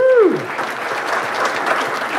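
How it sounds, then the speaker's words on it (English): Audience applause at a sales event, a dense, steady round of clapping from a crowd, opening with a loud whoop and continuing at even strength. "round of applause for these guys"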